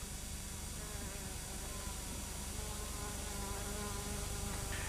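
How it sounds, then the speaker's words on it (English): A host of insects buzz around the flamboyant flower of a male coco de mer tree in the Seychelles, a continuous droning hum of wingbeats in overlapping tones, steady and fairly faint with no voices. "The male tree's more flamboyant flower attracts a host of insects."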